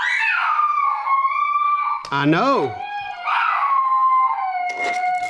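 A dog named Carmela howls at a phone, giving drawn-out, wavering howls and yips that rise and fall over several seconds, close and fairly loud, with a person speaking briefly in between.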